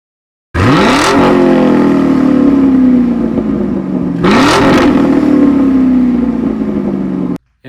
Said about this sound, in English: Now we can compare that to some of the sounds of the Borla Attack